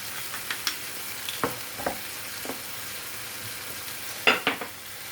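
Red pepper sizzles in hot oil in a pan of Çakallı-style menemen, a Turkish egg and pepper dish, with a steady fry and scattered scraping strokes of the spoon as it is stirred close by.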